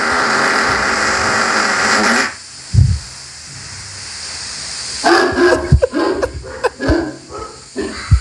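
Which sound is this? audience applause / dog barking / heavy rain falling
dog barking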